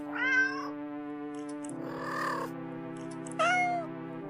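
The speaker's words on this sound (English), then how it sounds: "The sound of happy cats munching away at the fish he fills your ears." Cats being fed fish meow several times in short, bright calls, one early, one in the middle and one near the end, over a steady low hum that runs throughout.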